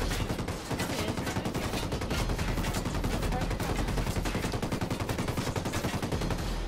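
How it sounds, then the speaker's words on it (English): Enemy gunfire in the video game Ghost Recon Breakpoint, a sustained rapid automatic barrage of dense, evenly spaced shots that keeps going loudly the whole time. "He keeps on shooting."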